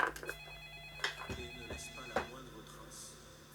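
A landline telephone ringing in repeated electronic ring tones, steady and moderately close, with faint background noise and no clear talking.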